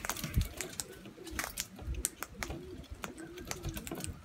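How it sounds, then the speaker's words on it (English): A timid native pigeon with a top knot gives soft, low cooing calls close by, repeated at a steady pace among light tapping clicks. "You little native pigeon."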